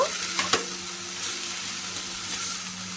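Water spinach (kalmi greens) fries in an uncovered pan with a continuous soft hiss, and a couple of sharp clicks of a utensil early on as the greens are turned.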